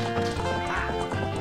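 Horse hooves clip-clop in a Legend of Zelda video game, a quick continuous gallop of hoofbeats with game music underneath.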